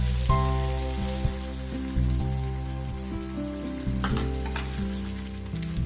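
Butter chicken paste stirring and sizzling in a pot, a steady close frying hiss with spoon scrapes and clinks over a constant low hum, no voices.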